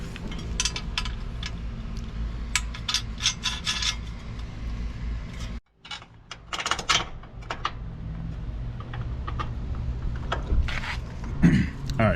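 Bolts being fitted through the frame rail of a Ford Bronco during a Lobo Off-road crash bar install give close, irregular rubbing and rasping metal scrapes with clicks and knocks, broken by a brief pause.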